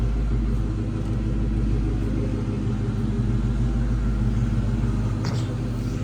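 A 2004 Ford Mustang SVT Cobra Convertible engine rumbles loudly nearby, idling with a deep steady drone and a slight rise in revs, no talking.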